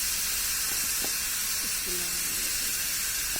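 Mango pickle cooking in a pan is stirred, giving a steady hiss and sizzle with a few faint scraping strokes.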